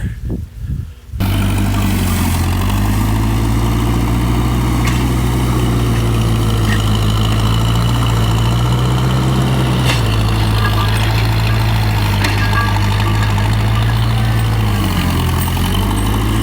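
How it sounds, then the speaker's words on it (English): Old engine-driven farm pump, unused for years, running steadily to move liquid manure to a lagoon; a loud, continuous low engine drone with little variation, alone after a brief start. "We're going to try to make this work to just pump out the liquid manure to the lagoon"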